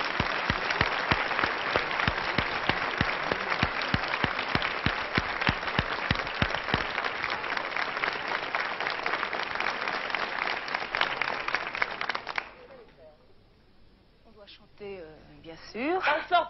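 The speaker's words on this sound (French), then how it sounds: "On les applaudit." A theatre audience in London claps in dense, sustained applause for about twelve seconds before it fades, leaving a quiet hall where a few voices speak.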